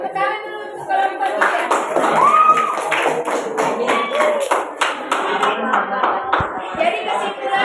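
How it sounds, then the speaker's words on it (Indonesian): A classroom group of children gets a round of applause, dense close clapping running the whole length with children's voices mixed in. "Tepuk tangan dulu untuk kelompok"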